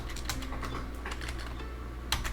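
Rapid, steady keystrokes on a computer keyboard, typed up close during R coding work, with no voices over them.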